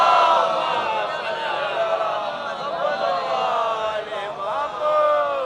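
A congregation at a majlis gathering chants the salawat slogan in unison. The loud, sustained chorus of voices swells and holds throughout.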